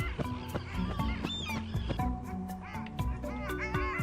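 Wild birds at the Ulan Suhai Lake bird sanctuary, heard as a busy chorus of overlapping harsh caws, honks and clucking calls, repeated in quick bursts from several birds nearby.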